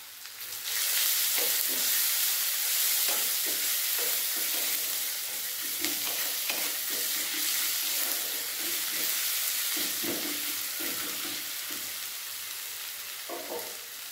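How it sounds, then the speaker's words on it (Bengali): Onions frying in a pan with salt until reddish brown, a steady broadband sizzle with intermittent scraping stirs throughout, close and fairly loud, no voices. "পেঁয়াজ ভালোভাবে ভেজে নেব লাল লাল করে।"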